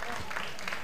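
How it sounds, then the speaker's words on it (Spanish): Brief burst of applause and crowd noise for a dancing couple at a televised ballroom dance show, dense and steady for under a second, with a voice over it. "Un aplauso a la pareja 2"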